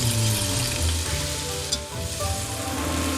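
Venison browns in a hot pan with a strong, continuous sizzle close by, a brief clink near the middle, and a low hum underneath.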